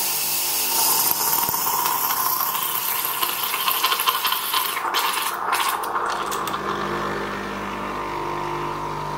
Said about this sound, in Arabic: هنحط اي وعاء هنا وهنفتح مفتاح التبخير